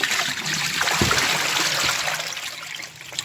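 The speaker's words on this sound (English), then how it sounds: "I took the bags out and wrung them gently." Bags of soaked wool are gently wrung out, and water trickles and splashes steadily close by, with a few soft sloshing bumps and a gurgling drip toward the end.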